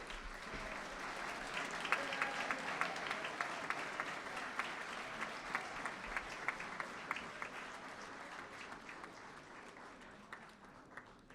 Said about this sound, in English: Let's give them a round of applause as we officially open the D. Stephen and Diane H. Walker Convocation Center